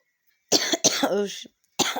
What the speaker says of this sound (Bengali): আমি ভয়েস ওভার দিতে দিতেও কাশি